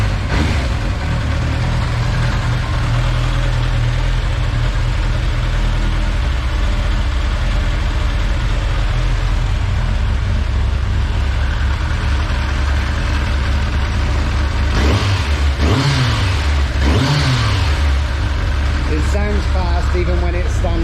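Kawasaki ZZR 1100 (ZX11) motorcycle engine running steadily at a loud, close idle with a deep low rumble, rising briefly in two quick revs near the end.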